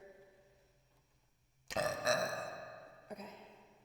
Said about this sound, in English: Have to burp.